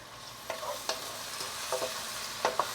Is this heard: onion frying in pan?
yes